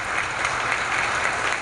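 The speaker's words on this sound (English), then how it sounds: "His fellow senators stood and applauded him when he left that podium." Senators standing and applauding in a legislative chamber, a dense continuous wash of clapping hands at moderate distance, steady and unbroken with no voices.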